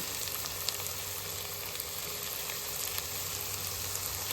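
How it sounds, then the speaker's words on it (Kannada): Mung beans and potatoes fry in oil with a steady, close sizzle and crackle throughout, with no voices. "ಹೆಸರುಕಾಳು ಮತ್ತು ಆಲೂಗೆಡ್ಡೆನೂ ಎಣ್ಣೆಯಲ್ಲಿ ಸ್ವಲ್ಪ ಹೊತ್ತು ಫ್ರೈ ಮಾಡ್ಕೊತೀನಿ"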